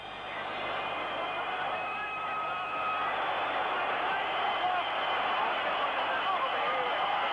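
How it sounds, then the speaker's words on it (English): A football stadium crowd roars frantically at the 1971/72 Cup Winners' Cup Final between Rangers and Dinamo Moscow, a dense sustained din of cheering and whistles with a commentator talking over it. "The crowd is going quite frantic"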